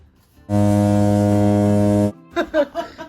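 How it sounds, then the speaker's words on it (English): A foghorn sound effect used as a bleep to cover speech: one loud, sustained low horn blast of about a second and a half, followed by brief voices talking. "with a foghorn sound"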